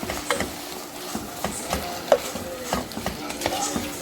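Mince with garlic, ginger and onions cooking in a pan, with a steady low sizzle broken by light scraping strokes of a spoon stirring at an irregular pace, close and moderately quiet.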